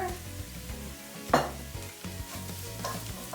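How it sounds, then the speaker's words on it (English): Garlic and paprika sizzle in a hot pan while a utensil stirs them, a steady close frying hiss broken by a sharp scrape of the spoon partway through, with no talking. "Now I'm gonna add a little bit of garlic, and you can add also some paprika."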